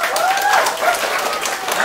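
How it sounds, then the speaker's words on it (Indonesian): A group at a one-day English and character camp applauds a child named Bimo, with brief, dense clapping mixed with raised voices and cheering calls. "Tepuk tangan buat Bimo"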